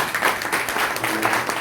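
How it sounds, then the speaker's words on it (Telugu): An audience at a church gathering on India's Independence Day claps steadily, a dense wash of applause filling the whole stretch with no clear pauses. "గట్టిగా చప్పట్లు కొట్టి దేవుని మెచ్చుకుంటాం"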